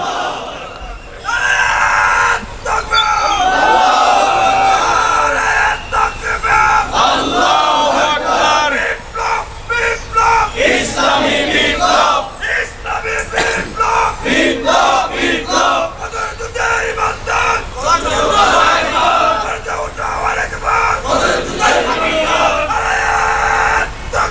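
A large congregation at a Bangladeshi Islamic sermon shouts the takbir, Allahu Akbar, in unison: loud, roaring waves of massed voices that rise and fall in repeated bursts without pause.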